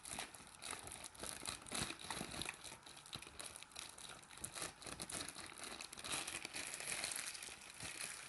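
Pastry cream for a strawberry tart being kneaded inside a plastic piping bag: a close, continuous crinkling and squishing that rustles steadily throughout, with no talking.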